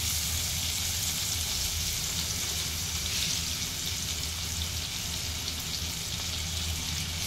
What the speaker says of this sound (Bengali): গরম হয়ে গেছে, এবারে আমি পেঁয়াজ কুচি দিয়ে দিচ্ছি।